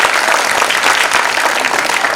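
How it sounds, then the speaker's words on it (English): An audience at an International Economic Convention breaks into dense, loud applause that holds steady throughout without a break. "A round of applause for sir."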